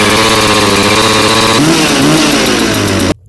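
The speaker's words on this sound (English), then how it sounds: "We're going to start a few of these saws." A Husqvarna chainsaw runs loud and close, its engine revving high and then dropping toward a rougher, lower note before cutting off abruptly at the end.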